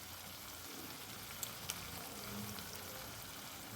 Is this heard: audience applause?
no